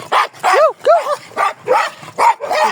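Dogs bark repeatedly close by on a seashore outing, a rapid series of loud, yappy barks and whining yelps in quick succession.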